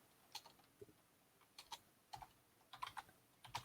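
Fast, uneven typing on a computer keyboard while scripting camera code for an AR game, with clusters of crisp key clicks spread across the stretch, close and fairly quiet, with no voice.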